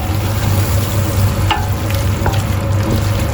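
Chicken with turmeric sizzles loudly in a frying pan for a Brazilian chicken and rice dish. The frying crackles steadily throughout, with a few spoon scrapes and clicks as the pieces are stirred.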